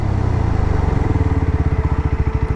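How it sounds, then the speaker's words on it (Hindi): A 2026 Yezdi Scrambler motorcycle engine runs steadily up close, then its pulses slow into a rhythmic, decelerating thump as the bike brakes hard from about 60 km/h with the front brake. "मोटा मोटा 60 के आसपास ले चलेंगे और फिर ब्रेक टेस्ट करेंगे"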